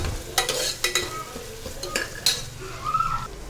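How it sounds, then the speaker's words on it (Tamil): Onions sizzling in oil in a pan while cooking a South Indian side dish, with several sharp stirring scrapes of a utensil over a soft, steady frying hiss. "நல்லா எண்ணெயில் வேகட்டும் வெங்காயம்."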